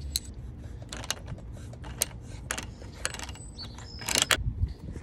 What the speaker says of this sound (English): So I have a 1/2 inch ratchet here, ratchet and wrench.